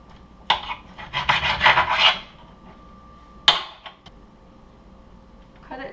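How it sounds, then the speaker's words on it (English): A knife saws through a sushi roll, cutting it in half down the center: a cluster of rasping strokes early on, then one more sharp cut after a short pause, close and fairly loud with no talk. "What I'm going to do is cut this about in half down the center."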